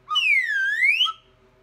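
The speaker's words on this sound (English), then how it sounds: "just your standard slide whistle, which some say is the worst instrument ever in the history of mankind" A standard slide whistle plays one sustained tone that dips down in pitch and then glides back up, bright and close, ending abruptly after about a second.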